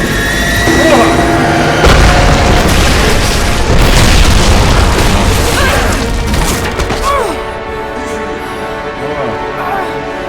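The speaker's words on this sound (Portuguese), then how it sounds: "Ele explodiu?" An explosion in the video game Rise of the Tomb Raider gives a loud, sustained rumbling boom that fills most of the stretch, then eases into a quieter, steady tail. There is no speech over it.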